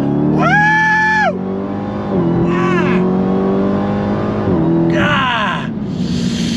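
A 2018 Dodge Challenger Demon revs hard and accelerates through several gears, each rising engine howl cut by a shift, loud and close with a steady low drone between pulls.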